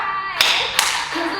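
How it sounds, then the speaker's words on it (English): Two sharp hand claps, evenly spaced and close, during a dance fitness class, over background music. "Double clap."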